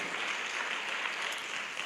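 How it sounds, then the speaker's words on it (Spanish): Applause from a church congregation after a call to clap for the Lord during a sermon, a dense steady wash of many hands lasting under two seconds with no voices. "Dale un aplauso al Señor, por favor."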